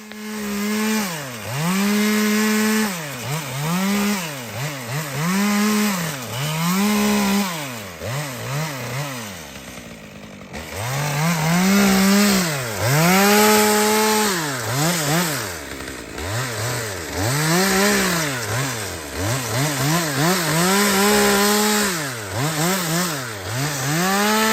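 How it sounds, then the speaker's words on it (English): Chainsaw cutting through a tree trunk resting on a roof edge, the engine loud and close, rising and falling in repeated revving surges with a short drop around the middle, no voices. "the last thing I want to do is cut into the roof with my chainsaw and make things worse"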